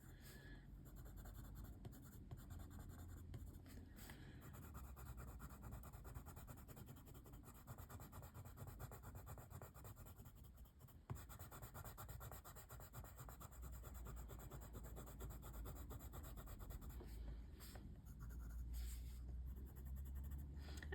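Colored pencil shading across paper while coloring a floral page, with a steady, soft, continuous scratchy rubbing close to the mic and only brief pauses.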